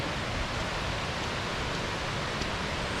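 Melincourt Falls in the Brecon Beacons, Wales, roars as a swollen torrent after an hour of torrential rain, a dense, steady rushing wash of water with no talking.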